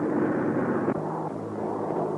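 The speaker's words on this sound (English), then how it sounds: "And now, they're arriving by airplane." A droning propeller aircraft engine hums steadily at moderate distance, a continuous low rumble with no talking.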